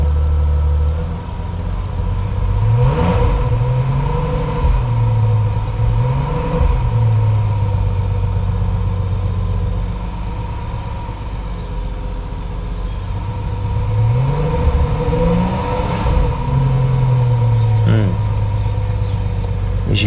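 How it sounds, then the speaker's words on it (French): BMW 760 Li engine running smoothly during fuel-pump testing, a steady, loud mid-pitched hum with a few gentle rises in revs, while someone talks over it. "Pourtant, là, elle tourne vraiment rond la voiture."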